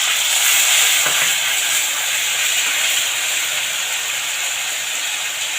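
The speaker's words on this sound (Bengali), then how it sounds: "এবার এখানে একটুখানি কালো জিরে ফোড়ন দিলাম" Nigella seeds and mustard crackle and sizzle in hot oil for a Bengali tangra fish dish, a steady loud hiss holding throughout with no talk.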